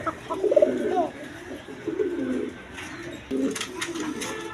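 Low, throaty pigeon coos repeat in short phrases, with a faint voice in the background and light rustling.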